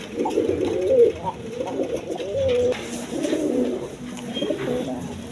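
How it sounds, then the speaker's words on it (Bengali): A pair of yellow Continental pigeons coo continuously at close range, the low throaty calls rolling on almost without pause. "এখানে এক পেয়ার কন্টিনেন্ট কবুতর আছে"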